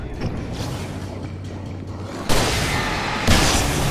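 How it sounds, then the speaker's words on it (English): A flare gun fires in Alan Wake Remastered with a loud sudden bang and sustained bright hiss, followed by a second burst a second later, after a stretch of low rumbling ambience. "This is the time for the flare gun"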